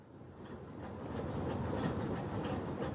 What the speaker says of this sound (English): On the train going to Calcutta